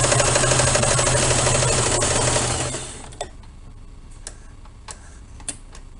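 A sewing machine stitches fabric in a fast continuous whirring run for about three seconds, then stops, leaving quiet handling clicks and taps nearby.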